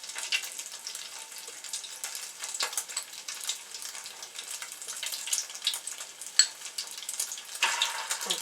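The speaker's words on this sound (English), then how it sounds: "Fry it on medium." Mashed potato balls dipped in egg fry steadily in a skillet over medium heat, giving a continuous close sizzle and crackle with a few sharper pops and spatters, no talking.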